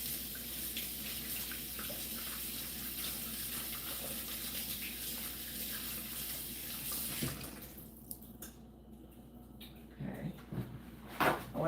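Tap water runs steadily into a kitchen sink while fresh tomatoes are rinsed for a taco salad, a continuous hissing stream. The flow stops near the end, leaving a few clinks and splashes.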